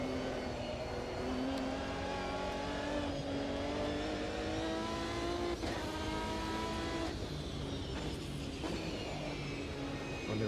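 A race car engine in the racing video game Automobilista 2 revs and climbs through gears, a continuous whining roar rising in pitch with brief shifts, heard up close without talking.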